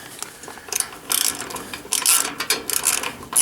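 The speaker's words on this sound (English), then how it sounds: "So here we are putting the last few bolts on the back flange for this pulley cover here." Bolts being tightened on the back flange of a band saw pulley cover made of 1/8 inch aluminum, a series of short ratcheting clicks in quick bursts, close and clear.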